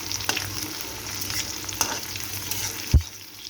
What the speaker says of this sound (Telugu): ఆయిల్ హీట్ అయిన తర్వాత మనం కట్ చేసి పెట్టుకున్న ఎండుమిర్చి, ఎల్లిపాయ, ఉల్లిపాయ దాంట్లో వేసుకోవాలి.